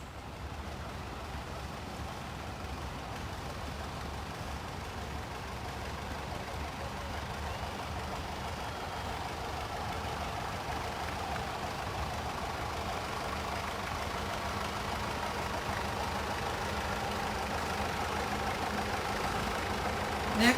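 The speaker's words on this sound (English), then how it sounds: "This is a 1963 JI Case 830." A 1963 J.I. Case 830 tractor rolls past in a parade of tractors at the Jewell County, Kansas threshing bee. Its engine rumbles steadily and unbroken for about twenty seconds, with no voices.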